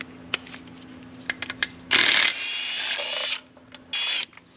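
A ratchet working the two 10 mm bolts on an idler pulley of a 3.5L EcoBoost engine, a few faint clicks followed by louder bursts of rapid ratcheting, nearby and with no talking.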